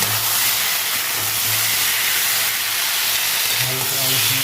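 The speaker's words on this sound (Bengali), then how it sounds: "হালকা আদা রসুন কষে নেবো।" Ginger garlic paste frying in a pan for a Bengali potato and rui fish curry, a steady close hiss and sizzle with faint clinks of stirring near the end.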